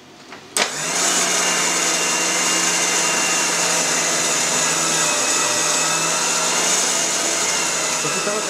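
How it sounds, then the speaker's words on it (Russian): An electric meat grinder mincing pork through a fine 3-4 mm plate switches on abruptly and runs with a loud, steady motor whine and whirr that holds constant from start to finish. "После того, как мы порезали мяско, перекрутим его на мясорубку."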